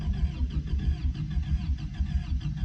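A 1984 Toyota truck engine cranking over on the starter without catching, a steady rhythmic chugging churn, loud and close, continuous for the whole stretch.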